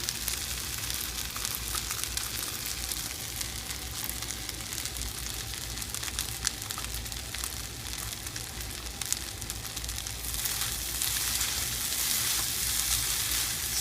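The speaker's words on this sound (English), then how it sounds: "Stir it up a little bit, turn off the heat." Vegetarian fried rice with chopped green onion being stirred in a hot pan, with a dense, continuous frying hiss and crackle that stays steady throughout and grows slightly louder near the end.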